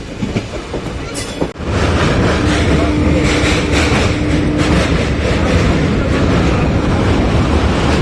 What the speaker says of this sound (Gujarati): આ જો બીજી ટ્રેન એન્ટર થાય છે